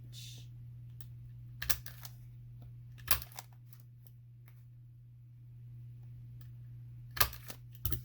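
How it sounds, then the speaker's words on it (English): A handheld paper punch punches through card paper for a keepsake journal, giving a few sharp, close clicks spaced several seconds apart over a steady low hum, with no talking. "Line that up against it and punch."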